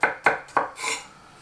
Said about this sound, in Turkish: Şöyle küçük küçük parçalar halinde doğruyorum. Havuçları da yine küçülteceğim iyice.